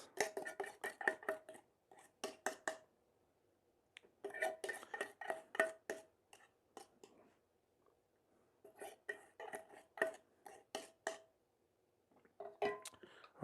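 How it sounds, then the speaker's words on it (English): Candied walnuts stirred in a pan make bright metallic clattering and scraping in three or four bursts separated by short quiet pauses, close and clear. "So let me pour these on the top and mix them in."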